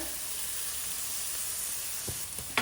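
Chickpeas coated in paprika, hot paprika, cumin, salt and garlic powder fry in a pan with a steady, close sizzle throughout, and a few light knocks come near the end as they are nudged around.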